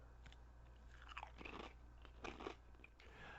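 Lay's West Coast Crispy Taco potato chips crunched and chewed close up, a few sharp crisp bites followed by brief chewing, fairly quiet with no talking.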